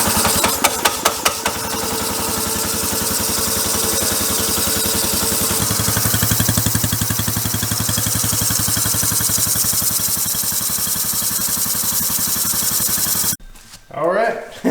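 A Predator 212 engine on a homemade tracked scooter fitted with a custom exhaust starts up and runs at a steady, fairly quiet idle with a rapid, even putter, then cuts off abruptly near the end.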